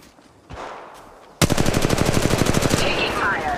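Rapid automatic gunfire in Apex Legends Mobile, a loud unbroken burst of closely spaced shots that starts abruptly after quieter game ambience and keeps a steady rhythm to the end.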